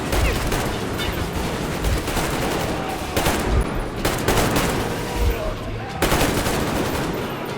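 Shotgun fire in a video game, with repeated loud blasts and dense rapid bursts of gunfire carrying on throughout, close and continuous.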